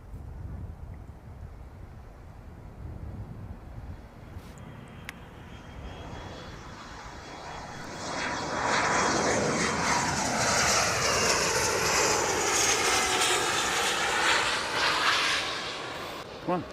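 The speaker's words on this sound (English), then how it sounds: "Oh wait, here comes a plane." Airplane flying over an outdoor spot, beginning as a faint distant drone under wind noise and swelling into a loud, sweeping engine roar with shifting pitch as it passes close overhead.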